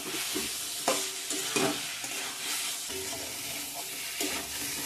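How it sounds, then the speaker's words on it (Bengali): Paneer masala sautés in a pan as a spoon scrapes and stirs, the steady sizzle of frying broken by louder clanks and knocks at uneven intervals, close up, with no one talking. "আবারও ভালো করে কষিয়ে নেব।"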